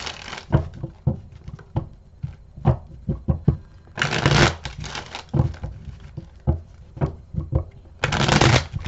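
Playing cards are shuffled close by, with crisp flicks and taps followed by two longer riffling bursts.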